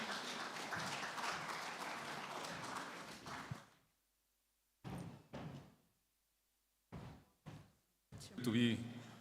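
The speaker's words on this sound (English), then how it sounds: "Please let's keep clapping until he gets here." Audience at a gender and inclusion summit applauding a speaker's arrival, a dense wash of clapping that fades out after a few seconds, followed by brief thumps and short bursts of talk.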